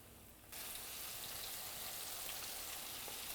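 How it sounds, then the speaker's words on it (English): Calamari frying in very hot peanut oil, a steady dense sizzle that begins abruptly and holds at an even level, close and alone. "Now we leave it fry to be nice gold color."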